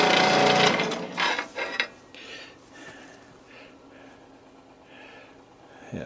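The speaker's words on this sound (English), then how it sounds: "now for some filing and some Dremel work" Cast copper being worked with a file and a Dremel rotary tool: a loud burst of high grinding at the start, then fainter intermittent rasping strokes close by, with no voices.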